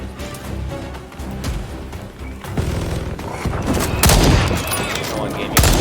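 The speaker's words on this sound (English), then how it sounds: "Odds are if you shoot it, it will explode." Gunfire in the shooter game Second Extinction is aimed at an explosive charge. Rapid bursts build to loud, sharp blasts near the end, and a voice is heard now and then under the shooting.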